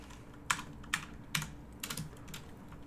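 Keys on a computer keyboard are typed in a few sparse, separate taps and short clusters, close and fairly quiet, with no voices.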